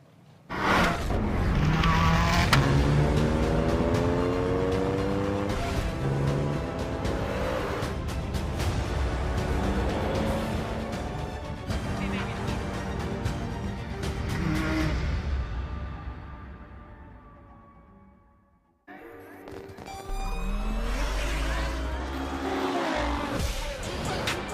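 At the Goodwood Festival of Speed, loud racing engines roar and rev with rising and falling pitch, then fade briefly before another engine bursts back in up close.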